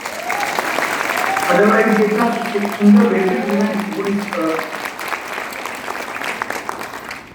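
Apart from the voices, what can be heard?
applause for event organizers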